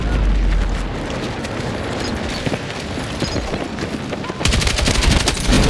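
Full-auto gunfire in Battlefield 6: near-continuous, loud, rapid bursts of shots with booming impacts, growing denser and more intense toward the end, with a voice faintly underneath.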